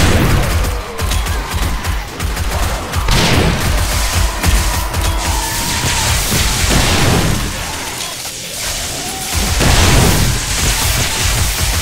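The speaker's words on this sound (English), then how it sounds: "Contact grenades." Contact grenades exploding in the video game 7 Days to Die: loud, dense, repeated booms and crackling bursts layered over rumbling noise, with heavy blasts recurring throughout and a strong one near the end.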